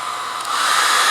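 A hair dryer blows steadily at close range to dry fresh paint on a canvas at a sip-and-paint session, a loud, even whoosh that swells slightly stronger partway through.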